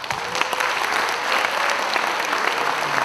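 Dense audience applause fills the hall at the closing ceremony of the 28th Busan International Short Film Festival, a steady wash of many hands clapping throughout with no voices on top.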